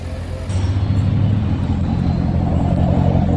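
A Corvette engine with a wobbling harmonic balancer idles loudly with a steady low rumble and a rhythmic wobbling throb, continuous throughout after a brief quieter start.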